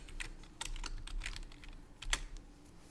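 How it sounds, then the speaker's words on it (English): Typing on a full-size membrane computer keyboard, with quick, light clattering keystrokes in irregular bursts, close and fairly quiet. "If y'all hear my clicky keyboard"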